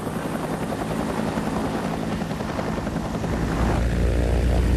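A Huey military helicopter flies steadily with a loud, dense rotor and engine drone that fills the whole stretch and swells slightly toward the end, with no voices.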